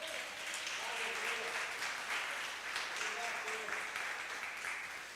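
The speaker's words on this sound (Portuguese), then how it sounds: "Dê um aplauso a Jesus." A church congregation applauds together, a steady, fairly faint wash of clapping that lasts throughout without pause.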